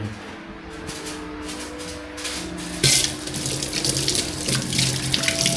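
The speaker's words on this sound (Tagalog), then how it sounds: "Lakas ng tubig dito." Strong, steady rush of water pouring from a tap into a sink, loud and close, with a brief clatter partway through.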